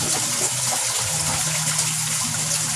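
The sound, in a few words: pouring beneficial bacteria liquid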